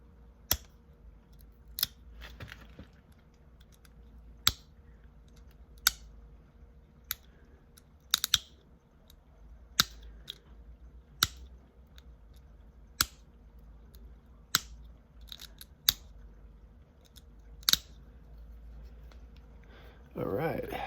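Flint being knapped into an arrowhead, sharp isolated clicks of stone on stone at irregular intervals, close and crisp over a quiet background.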